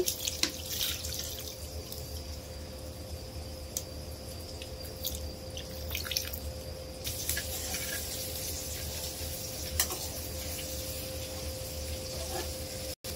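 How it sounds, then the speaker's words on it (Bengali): Water is poured by hand into a chapila fish mixture, a continuous near trickle and splash like a running tap, with faint drips and clinks over a low steady hum. "পানি দিয়ে দিলাম হাতটা দিয়ে।"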